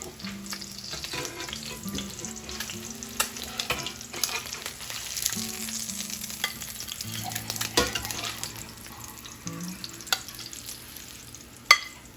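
Goose eggs frying in a pan, a steady soft sizzle with scattered crackles and pops throughout, fairly quiet and close, with no talking.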